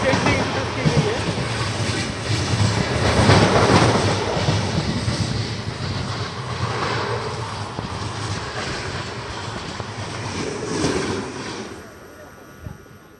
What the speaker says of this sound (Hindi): क्रॉसिंग MGR चेन्नई सेंट्रल भगत की कोठी सुपरफास्ट एक्सप्रेस।